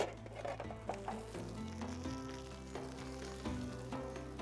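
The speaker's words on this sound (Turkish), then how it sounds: "Bunu böyle kızartıyoruz." Steady sizzling of pickles frying in a pan, a continuous crackling hiss with occasional louder pops, close and fairly loud, no talking.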